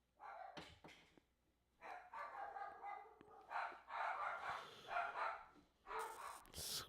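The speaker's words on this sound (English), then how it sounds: "Please excuse the dog barking." A dog in a house barks in several short bursts, moderately near, interleaved with and partly under someone talking over a televised football match.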